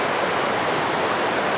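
The Jizera river rushes past on a morning, a steady broadband roar of flowing water, close and continuous without pauses or voices.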